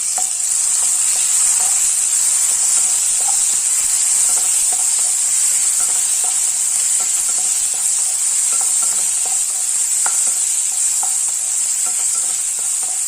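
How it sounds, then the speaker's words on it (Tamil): Capsicum and tomato sautéing together in a pan for a variety rice dish, a continuous close sizzle with a bright hiss and scattered clicks of stirring, no voices. "நம்ம இந்த ஸ்டேஜில் குடமிளகாவும் தக்காளியும் ஒன்றாவே சேர்த்துடலாம்"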